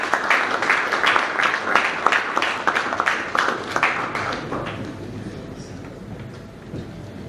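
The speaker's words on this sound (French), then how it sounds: "Sous vos applaudissements, les gars." An audience claps at an award ceremony honoring distinguished figures in the DRC, with rhythmic bursts of hands that start loud and gradually thin and fade toward the end, and a voice faintly present underneath.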